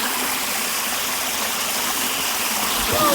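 Stream water flows steadily at a forest hiking trail in Gunung Tampin forest reserve, a loud continuous rushing wash heard close and alone, with no speech.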